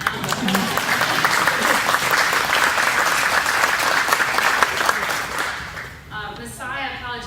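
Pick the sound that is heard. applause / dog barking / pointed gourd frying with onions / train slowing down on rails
applause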